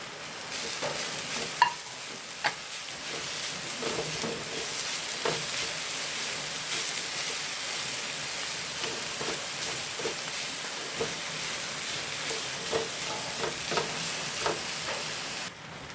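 Half-cooked potato and onion frying in a pan, a continuous bright sizzle with scattered scraping stirs and occasional clinks, steady and close throughout.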